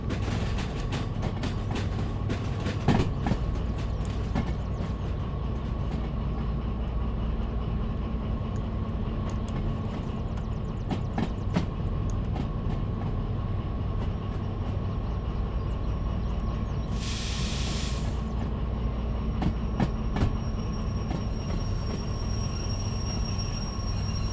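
A freight train rolls steadily in the railway game Derail Valley, a continuous low rumble of wagons with a steady hum and scattered clicks of wheels over rail joints, plus a brief hissing burst midway.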